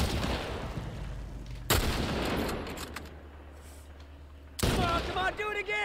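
Gunfire from the video game The Last of Us comes as loud booming shots, with one at the start, another near two seconds and a third near the end, each trailing into reverberant rumble, and a voice talks briefly alongside.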